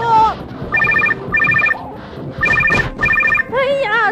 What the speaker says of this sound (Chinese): 哪一个不识趣的，这么晚了还要打电话来？